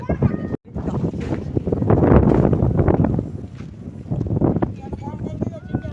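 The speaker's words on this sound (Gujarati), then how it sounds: "बहुत ज्यादा तेज हवा चल रही है" Strong stormy wind in Surat buffets the microphone in loud, roaring gusts, with voices faintly audible underneath.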